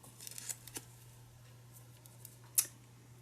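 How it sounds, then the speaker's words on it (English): Scissors snipping a piece of eyelash trim fabric, a few soft quick cuts followed by one sharper, louder snip, close up and quiet over a low steady hum. "And cut out this bit of eyelash trim"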